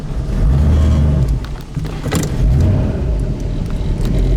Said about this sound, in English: It's got a nice choppy idle to it.